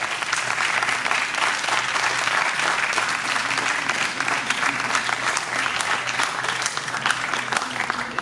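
Sustained applause from an audience at a Hindi poetry reading during a literary festival, dense, steady clapping filling the room for the whole stretch, close and loud with no talk over it.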